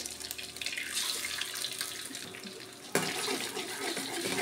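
An egg hits hot oil in a wok for fried sausage noodles, setting off a sudden loud sizzle midway that continues as a bright, crackling hiss over the quieter frying noise before it.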